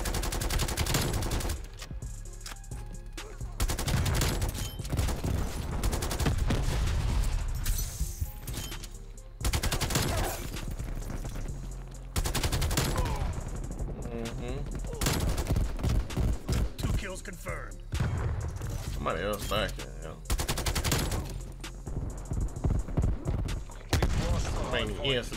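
Dense, sustained gunfire from a Krig 6 rifle and other weapons in a Black Ops Cold War multiplayer match, loud bursts running nearly continuously with brief gaps and someone talking over the shooting.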